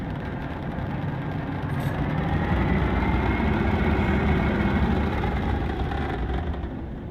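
Star Citizen spaceship engines pushed to max power: a steady, heavy engine roar that swells slightly and holds at a loud, constant drone close by, with no voices over it.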